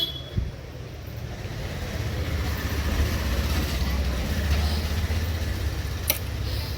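Vehicles drive past on a road beside a morning vegetable market in India, a low, continuous rumble of traffic with occasional brief knocks and a faint high whine, steady and moderately distant.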